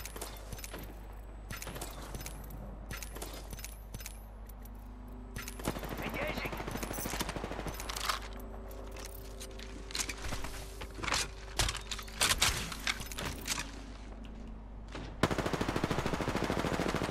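Gunfire in the shooter game Apex Legends crackles in bursts and single shots at varying distances, mixed with game effects, footsteps and occasional talk.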